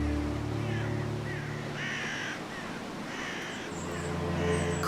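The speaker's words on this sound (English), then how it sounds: "Crows arrive." Several crows caw in short harsh bursts, fairly close, over a low steady background rumble, with a few overlapping calls spaced across a few seconds.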